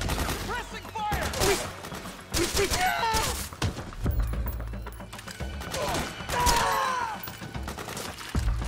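Gunfire in the video game Metal Gear Solid 4, with bursts and thuds spread throughout a busy battle mix, partly under game voices shouting and talking.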